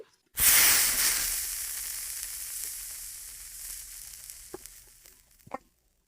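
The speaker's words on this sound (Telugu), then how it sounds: "నాలుగు ఉల్లిపాయలు తీసుకున్నాను ఇలా కట్ చేసుకొని వీటిని కూడా వేయించుకోవాలి" Sliced onions hit hot oil in a pan with a sudden loud sizzle that settles into a steady frying hiss, slowly fading, with a few sharp clicks of stirring near the end.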